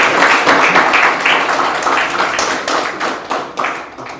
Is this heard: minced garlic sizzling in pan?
no